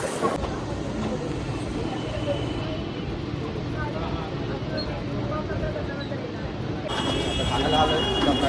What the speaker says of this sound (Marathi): स्टेशन ट्रेन तर आली आहे.